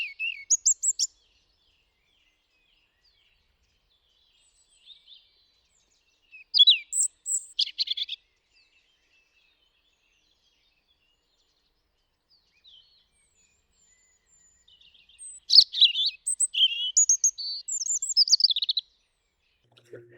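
A European robin sings in short bursts of high, thin, warbling phrases separated by long silences, clear and fairly close.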